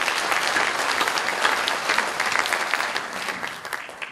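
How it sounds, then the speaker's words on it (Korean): A crowd at a Democratic Party rally breaks into loud, dense applause, a sustained wash of clapping that holds steady and begins to fade slightly near the end. "황민석 후보를 위해서 우리 다 같이 뜨거운 박수를 보내드리십시다."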